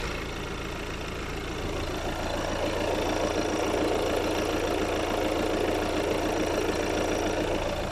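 Two-litre car engine idling with a loud, steady rattle and a knocking chatter, heard close under a raised hood at a used-car lot, a continuous drone with no talking.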